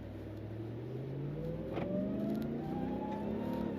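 A 2027 RAM 1500 TRX SRT pickup truck accelerates on an off-road course, its engine note rising steadily through a gear change, heard from inside the cab with no talk.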